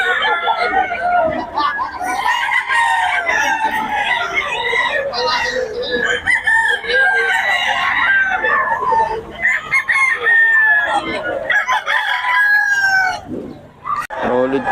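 Several roosters at a Bocaue gamefowl farm crow and cluck nearby in overlapping, repeated calls, loud and close, with people talking in the background.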